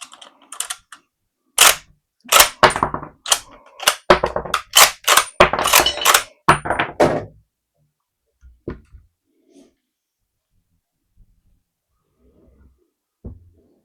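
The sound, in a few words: loading cartridge into Austrian Mannlicher M95/30 straight-pull rifle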